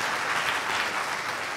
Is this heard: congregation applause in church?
yes